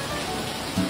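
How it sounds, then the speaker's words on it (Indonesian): Rain falling steadily in Indonesia, a constant hiss of drops with a faint low rumble, brief and uniform, with a short soft thump near the end. "When it's raining like this"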